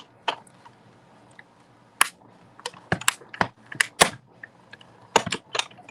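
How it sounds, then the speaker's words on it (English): A Stampin' Up! Cut and Emboss machine cuts die-cut pieces with a scarf die and several plates, giving a run of sharp, loud crunching snaps and cracks at irregular intervals over a low, steady mechanical rumble. "I think I'm done with my Stampin' Cut and Emboss machine."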